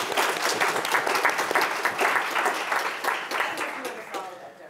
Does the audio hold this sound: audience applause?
yes